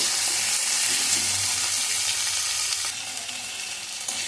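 Boiled tomato pieces frying in a pan, a steady close hiss of sizzling oil that softens slightly toward the end, with no talking.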